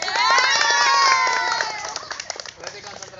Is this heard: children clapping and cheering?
yes